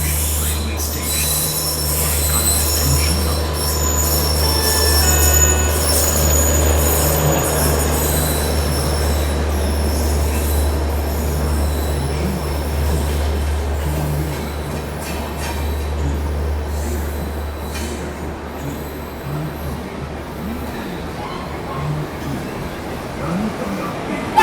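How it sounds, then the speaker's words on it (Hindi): Bhopal Shatabdi express train pulling into Mathura station, a loud continuous low rumble with wheels squealing on the rails and a brief voice early on, steady throughout. "उधर आ गई है भोपाल शताब्दी। चलिए सबसे पहले उसका अराइवल देखते हैं।"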